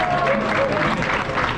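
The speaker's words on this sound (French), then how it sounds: "tout le monde est à côté en train d'applaudir" Guests clapping together at an anniversary celebration in the Hotel New York at Disneyland Paris, a short, steady burst of close crowd applause with some voices mixed in.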